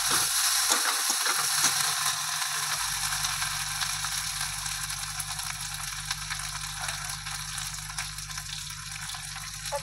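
Chopped tomato frying with onion and ginger-garlic paste in a pan: a strong, steady hiss and crackle of sizzling oil that keeps going for ten seconds, close and loud, with no talking.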